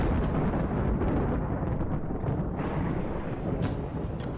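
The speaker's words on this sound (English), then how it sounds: "Oh Christ, a flash storm now." Thunder rumbling from a flash storm in the RimWorld video game, a dense, loud, continuous low roar with rolling crackles, heard alone without voices.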